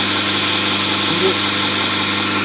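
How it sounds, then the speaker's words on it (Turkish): A palm sander whirs steadily at close range smoothing a surface, a loud, even buzzing drone with no pauses. "palet zımparayla düzeltme işlerini yapıyoruz."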